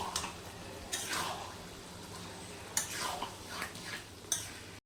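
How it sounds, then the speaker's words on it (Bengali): Fried potatoes are tipped into a thick, simmering curry in a pan and stirred, giving faint scraping and clinking of a utensil against the pan, with a few sharper knocks over a low, steady background. "আমি ভেজে রাখা আলুগুলো এর মধ্যে দিয়ে দিলাম।"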